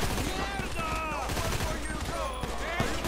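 Sustained bursts of automatic gunfire rattle through a GTA 5 shootout against a biker gang, shots overlapping for several seconds under game noise and voices.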